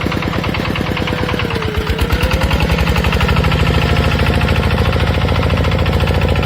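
A small Bulat SF-200 tractor pulls a homemade PN 1-30 plow without ballast, its engine chugging loud and close with a steady, rapid knocking beat that grows firmer as it works.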